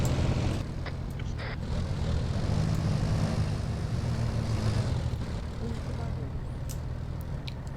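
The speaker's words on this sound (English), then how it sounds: "Not gonna be able to hear him over the engine, though." Steady, loud aircraft engine drone from a video game military operation, a continuous low propeller-style rumble filling the whole stretch, with faint voice chatter beneath it.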